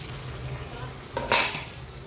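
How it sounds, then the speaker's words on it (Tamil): Ground tomato tipped into a pan of sautéing garlic gives a brief, moderate sizzle and hiss that rises from a low steady kitchen hum and fades within a second. "இந்த ஸ்டேஜில் வந்து நம்ம தக்காளி ஆட் பண்ணிப்போம்."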